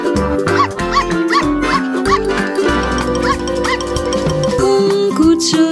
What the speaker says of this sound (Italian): Mamma cane disse woof, woof, woof, woof.